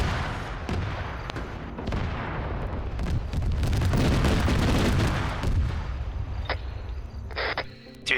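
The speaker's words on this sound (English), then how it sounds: "What the heck are you shooting at?" Heavy, sustained gunfire and booming blasts in an SCP mod video game battle, with rapid overlapping shots that thicken in the middle and then thin into a few sharp cracks near the end.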